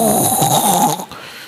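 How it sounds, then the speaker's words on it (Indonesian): A person snoring loudly during tarawih prayers, with one drawn-out, rasping snore close by for about a second before it cuts off into quieter room sound. "Ngorok dia."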